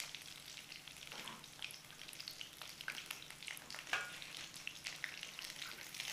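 Paneer 65 fries in hot oil, giving a soft, continuous crackling sizzle with scattered pops and no voices.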